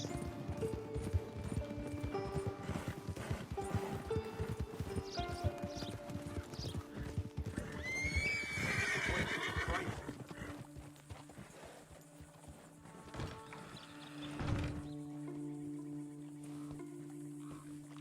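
Steady clip-clop of hooves with a horse whinnying partway through in Red Dead Redemption 2, over a layered game soundtrack and ambient hum.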